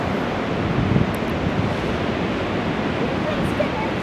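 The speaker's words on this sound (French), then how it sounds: "Sur le nord d'Anglette, il y a des vagues aussi" Ocean surf on the northern stretch of Anglet beach rolls in as a dense, continuous wash of breaking waves with strong wind noise buffeting the microphone throughout.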